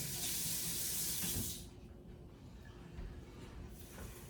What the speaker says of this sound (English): I'm gonna give my knife a rinse real quick.